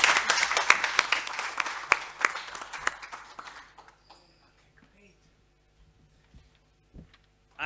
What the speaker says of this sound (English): I think we can do better applause than that